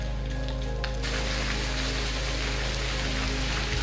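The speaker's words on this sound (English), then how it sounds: "but then it rains" Steady rain pours down outdoors on a hot day, a dense, even hiss of drops that stays loud and unbroken for the whole stretch, with no voices over it.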